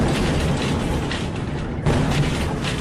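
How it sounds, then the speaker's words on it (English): A meteor fireball's delayed sonic boom, strong enough to rattle buildings, comes through as a loud, sustained rumbling roar with a sharper jolt near the end and no voices. "Videos showed the fireball's descent followed by a delayed sonic boom that rattled buildings"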